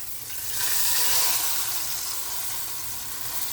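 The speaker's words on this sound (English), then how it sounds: "And you want to sear it for 3 minutes on each side." Beef roast searing in a hot pan before going into a slow cooker: a steady, moderately loud hiss of sizzling fat that swells briefly and then settles, with no talk.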